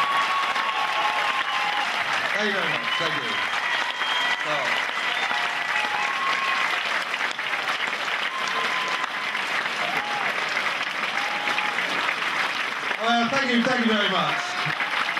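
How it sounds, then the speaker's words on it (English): An audience at a comedy contest show applauds steadily and loudly for the contestants as the winner is announced, and someone speaks his thanks over the clapping. "Give them a round of applause."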